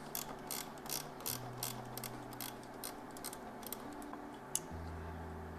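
A ratchet wrench works a 10mm bolt loose from the horn bracket on a 3rd-gen KLR650, giving quiet, close bursts of rapid clicking with short pauses, plus a faint tonal hum underneath.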